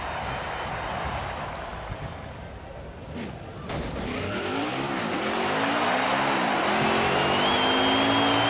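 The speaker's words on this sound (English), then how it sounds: "It is burnout time" A Craftsman Truck Series race truck does a burnout on the grass at Michigan International Speedway, its engine roaring loud and close while the tires squeal in rising, wavering howls, with a commentator talking over it.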